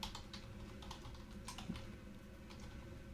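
Quiet, close typing on a computer keyboard, a steady run of soft key clicks with no talking.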